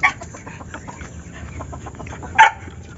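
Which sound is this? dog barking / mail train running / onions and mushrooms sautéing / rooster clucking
rooster clucking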